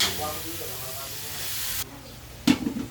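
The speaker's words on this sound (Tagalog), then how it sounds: "nagigisa rin natin yan para maluto" Spaghetti sauce with ground meat sautés in a pan as a loud, broad hiss that cuts off abruptly, then a short clatter of stirring, with a faint voice underneath.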